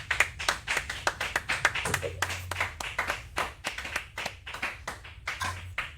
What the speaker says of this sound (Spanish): nosotros vamos a darle unos aplausos virtuales por la participación